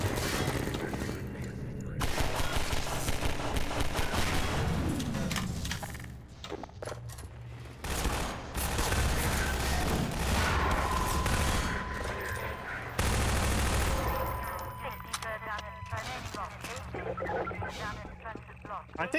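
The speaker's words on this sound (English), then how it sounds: "I think the grenade which the SMG launches sort of spins and rotates as it flies towards the target." SMG fire and grenade launcher blasts in the video game Half-Life 2, loud rapid bursts of gunfire with explosions and clattering debris, continuing through most of the stretch with a voice speaking over parts of it.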